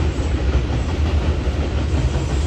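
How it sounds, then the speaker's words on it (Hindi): A train passing close to a village house, a continuous loud rumbling roar of wheels and rail cars with faint clatter, steady throughout and with no talking. "ये जो है ना जा रही है रेलगाड़ी, हमारे घर के पास से गुजरती है।"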